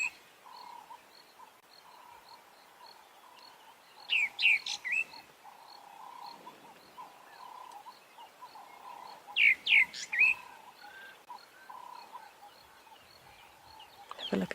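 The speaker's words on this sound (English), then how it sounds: "also just appreciate some of these bird calls" Birds call at sunrise on an African safari in the bush, with two bursts of bright chirping trills standing out over a faint steady insect drone and sparse distant tweets.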